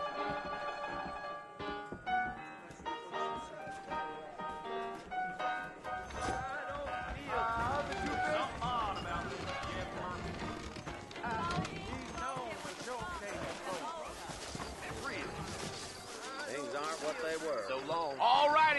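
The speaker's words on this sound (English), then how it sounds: "I got the horses saddled up and ready out front." Horse hooves clip-clopping in Red Dead Redemption, a steady trotting rhythm beneath ongoing conversation and background music.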